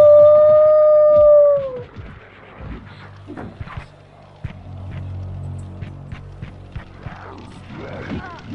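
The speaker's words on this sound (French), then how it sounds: "je me suis fait bouffer par un loup-garou." A werewolf in a video game lets out a long, loud, sustained howl that tails off after about two seconds, leaving low rumbling ambience and faint clicks.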